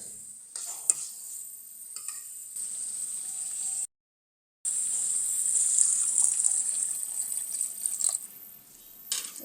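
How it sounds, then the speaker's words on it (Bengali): Water pours steadily into a pot of dried ribbonfish curry, a soft hissing stream that breaks off briefly and then resumes, with light stirring noises at the start. "এখন সিদ্ধর জন্য একটু পানি দিয়ে দেবো"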